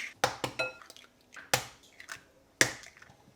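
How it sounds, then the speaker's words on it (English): Four eggs are cracked one after another into plain flour for Yorkshire pudding batter, giving sharp close taps and cracks followed by brief wet drips and squishes. "I'm going to break in 4 eggs here"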